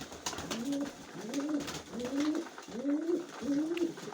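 Pigeons being fed give five rhythmic, soft cooing calls, each a low rising-and-falling coo about a second apart. They sit close over a faint background rustle and occasional clicks.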